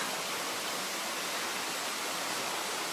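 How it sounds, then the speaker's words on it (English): Dyserth Falls in Wales, a waterfall of running clear water, gives a steady, even, hissing rush that fills the whole clip with no breaks and no voices. "the sound of running clear water"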